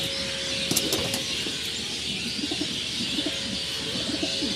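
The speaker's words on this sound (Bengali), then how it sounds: "চলো পরবর্তী পায়রা দেখানো যাক।" Pigeons in a loft coo softly and repeatedly, low throaty calls scattered through a steady background hiss, with a brief flutter of wings near the start and a constant faint hum.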